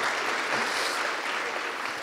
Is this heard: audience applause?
yes